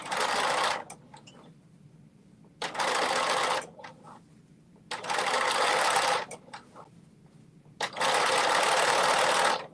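Sewing machine stitching fabric in several bursts of fast, steady whirring, each a second or two long, separated by quiet pauses, close and clear with no voices.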